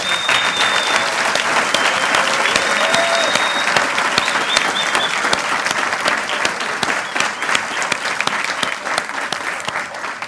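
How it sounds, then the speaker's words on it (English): A large crowd at a professorial inauguration applauds steadily for about ten seconds, dense continuous clapping with no voices standing out. "another round of applause"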